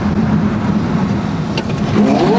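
A Porsche Carrera GT sports car engine drones steadily and close up, with a low, sustained hum, then rises in pitch toward the end as the car accelerates.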